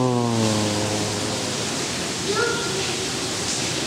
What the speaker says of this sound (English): The noise behind me is a waterfall.